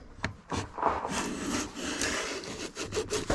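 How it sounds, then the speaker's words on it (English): Fine shavings peeled from a board by a Veritas low angle block plane, a series of short scraping strokes with a dry, rasping wooden texture, close and fairly quiet, with no voices. "Okay, so that's taking a pretty fine shaving."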